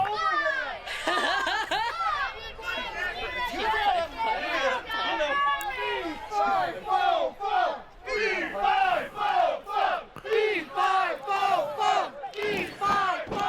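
A large crowd at a Fairfield Flag Day Frenzy wrestling event chants rhythmically in short repeated bursts for the 7-foot giant, loud and steady with slight dips in volume between phrases.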